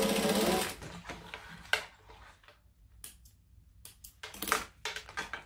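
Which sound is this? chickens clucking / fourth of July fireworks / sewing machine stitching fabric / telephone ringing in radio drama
sewing machine stitching fabric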